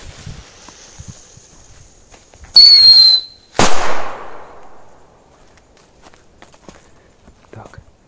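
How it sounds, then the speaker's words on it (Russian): Firecrackers with effects go off on a tree stump outdoors: a sharp whistling fizz is followed by a single loud crack that decays quickly, with faint rustling before and after. "Затестим сначала петарды с эффектами."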